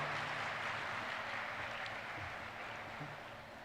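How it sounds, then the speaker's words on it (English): A hall audience at a university leadership programme applauds to welcome a vice chancellor, a dense, even patter of clapping that stays fairly faint and slowly tapers. "Please put your hands together and welcome with a round of applause"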